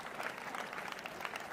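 Schoolchildren gathered in a school courtyard clap to welcome a guest, a dense, even patter of many small hands heard from a moderate distance.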